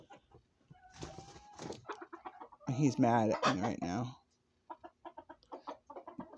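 Cockerel clucking and squawking at close range in a series of agitated bursts, with one loud crowing-like call in the middle, while a person speaks briefly.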